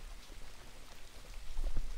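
Steady soft patter of rain falling outdoors while bees are being fed sugar syrup, a continuous wash of drops that swells slightly louder toward the end, with no talking.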